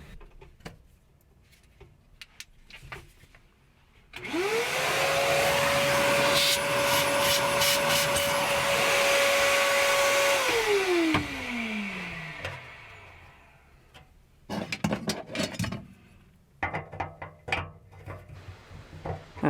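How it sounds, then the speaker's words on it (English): A vacuum cleaner works on a vintage RV gas valve, starting abruptly and droning loud and steady with a whining motor tone, then winding down in pitch as it shuts off, followed by scattered handling clatter. "let's get a vacuum here, actually"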